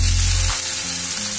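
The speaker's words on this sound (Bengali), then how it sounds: "এই পেঁয়াজটাকে কিন্তু আমি একটু লাল লাল করে ভেজে নেব" Chopped onions frying in a pan of hot oil with dried red chillies and cumin, a loud steady sizzle and crackle that continues unbroken throughout, with no voices.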